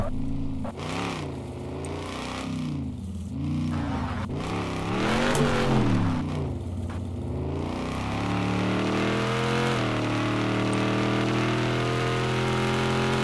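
Racing-game car speeding down the Cedar Shores drag strip, engine droning and revving in rising and falling sweeps with some tire squeal, loud and steady throughout with no talking.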